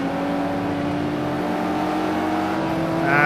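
Lamborghini GT3 race car engine heard from inside the cockpit at Laguna Seca in a racing game, a loud sustained high-pitched drone that climbs in pitch at the end as it revs up.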